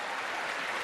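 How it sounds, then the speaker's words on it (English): Studio audience applause on a late-night comedy talk show, a brief, steady wash of many hands clapping with no talking. "Oh, shoot, it's time to clap."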